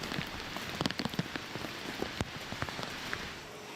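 Freezing rain falls during a winter storm in eastern Canada: a steady, fairly faint patter with scattered sharper drop ticks, no voices.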